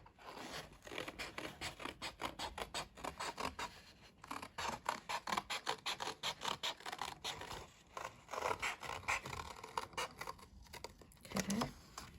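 Scissors snip steadily through card, giving close, rhythmic cutting and scraping strokes with brief pauses, no talking over them.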